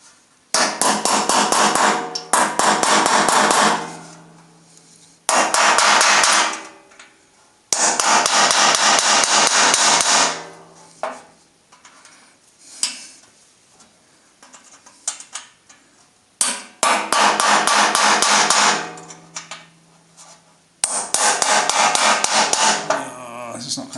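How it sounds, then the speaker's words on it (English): A small chisel is struck with a hammer to shift a damaged screw on a steam press, loud bursts of rapid metallic hammering up close, broken by pauses and a few lighter single taps. "you can see it moving sideways every time I'm hitting it with this little chisel."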